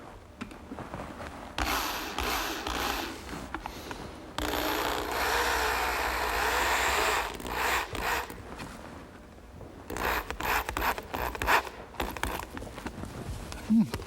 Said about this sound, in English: they claim that you can drive the screws very close to the end of a piece of wood like this and that it won't split.